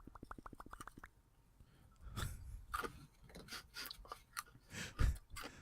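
Crunchy hickory sticks are chewed close to a microphone, a quick run of sharp crunching bites followed by slower, wetter chewing with irregular crackles.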